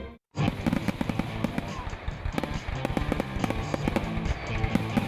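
Fireworks in a TV commercial for a River Bandits baseball game, a rapid string of loud crackling bursts and pops that begins after a brief silence and keeps going steadily, with talk and music faintly underneath.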